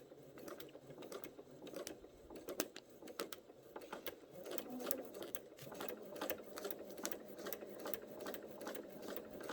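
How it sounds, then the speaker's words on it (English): A sewing machine stitches a quilt block along a drawn line for a log cabin pattern, a steady close mechanical whir with rapid needle ticks running throughout. "I'm going to stitch right along that line."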